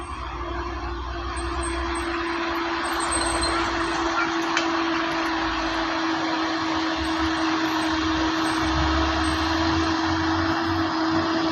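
A container truck labouring up a steep hill, its engine droning loudly and steadily nearby with a constant whine, heavy low rumble throughout.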